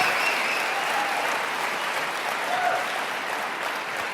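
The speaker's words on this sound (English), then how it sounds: "Give yourselves a round of applause." An audience at a motivational talk breaks into sustained applause, a dense, even roar of clapping that stays strong for several seconds and fades only slightly at the end.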